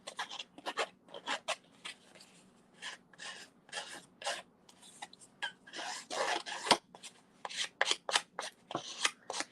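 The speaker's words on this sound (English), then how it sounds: "you can use the edges of scissors, and you're just kind of scraping the edges" Scissor edges scraping across watercolor paper to create an emboss resist texture, a series of short, dry rasping strokes in quick bursts, close and fairly quiet, with no talking.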